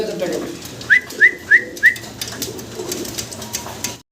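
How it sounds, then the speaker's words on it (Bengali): Four quick, evenly spaced whistled notes rise over a soft background murmur from short face fancy pigeons, followed by quieter ambient noise. "দর্শক ভিডিও স্ক্রিনে আপনারা দেখতেছেন শর্ট ফেস কবুতর"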